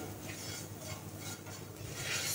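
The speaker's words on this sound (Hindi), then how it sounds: "और अब इसे हम अच्छे से भून लेते हैं इसके अंदर, ताकि सूजी हमारी अच्छे से सिक जाए इसमें" Semolina roasting in ghee in a pan for Holi gujiya, stirred with a spoon: a steady soft frying hiss with faint scraping strokes throughout, no talking.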